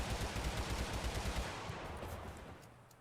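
Rapid automatic gunfire from the video game Totally Accurate Battlegrounds, a fairly quiet rattling burst of shots that thins out and fades over a few seconds.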